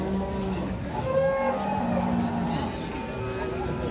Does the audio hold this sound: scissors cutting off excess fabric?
no